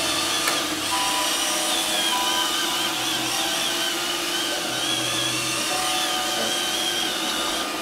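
An iRobot Roomba 533 Pet Series robot vacuum runs with a steady, continuous motor whir and brush hum throughout; any bumper knocks are not distinct.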